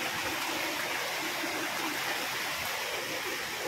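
A creek running high after a flood rushes in a steady, close, broadband wash of flowing water, constant and unbroken from start to finish with no voices over it.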